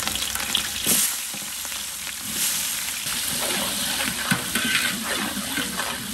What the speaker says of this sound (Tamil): வந்து நம்ம பிரியாணிக்கு வதக்கின மாதிரி வதக்க தேவையில்ல இப்போ நார்மலாக வதங்கினா போதும்